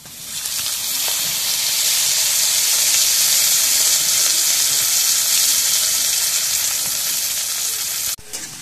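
Oil hitting a hot pan holding dried fish, chopped onion and green chillies, a loud, continuous close-up sizzling hiss lasting several seconds before cutting off abruptly.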